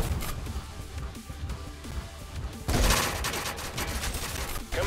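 Gunfire in a robot battle scene: rapid bursts of shots crackle through a busy mix, then a louder, denser volley erupts midway and continues to the end.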